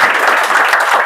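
Students in a coaching class clapping together, a loud, close burst of dense applause lasting about a second.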